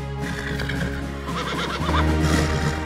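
Sumba pasola horses neighing, with a long loud whinny rising out of a steady background, accompanied by faint hoof clip-clops.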